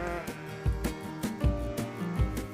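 Sheep on a farm bleat repeatedly at close range, several overlapping wavering calls in quick succession with no talk over them.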